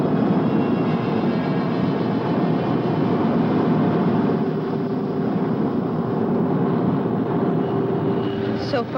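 Spacecraft Starduster descending for a vertical landing, a loud continuous engine roar with a rushing, droning texture that holds steady throughout and a faint tone emerging near the end.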